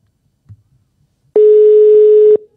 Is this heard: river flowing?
no